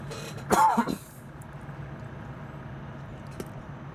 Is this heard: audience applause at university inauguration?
no